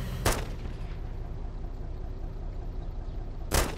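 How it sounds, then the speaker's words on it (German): Gunshots from a gun magazine being emptied in the DayZ video game: two loud, sharp shots several seconds apart over a low, steady background hum. "Ich mach mal eben das Magazin leer."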